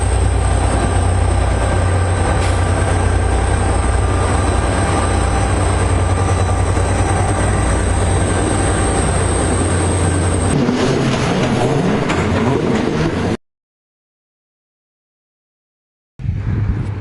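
Rumbling Watco freight wagons roll past close by in Brisbane with steady clatter and a high wheel squeal, then cut to silence before the noise resumes briefly.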